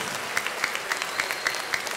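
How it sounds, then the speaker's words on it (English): Applause from a school carol concert audience, steady clapping across the whole span with a few sharper individual claps standing out, at moderate loudness and with no voices. "Can we have one more round of applause there, please?"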